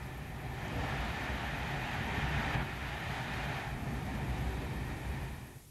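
A train passing, a steady broad rumble and roar that holds evenly for several seconds before easing slightly at the end.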